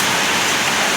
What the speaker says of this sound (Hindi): ये मतलब बारिश है। बादल पूरा काला हो गया है।